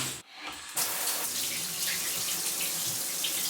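Water from a shower pours steadily into a shower tray with sand in its base, a continuous close hiss after a brief dip near the start, and no voices.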